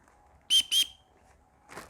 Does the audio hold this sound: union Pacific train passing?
no